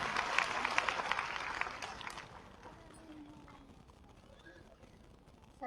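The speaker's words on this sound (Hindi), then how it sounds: "एक बार जोरदार तालियां हमारी सुनीता" Audience applause for Sunita at a rural women's self-help group event launching an app and distributing thermal printers, loud clapping for about two seconds that fades into quieter room noise and murmuring.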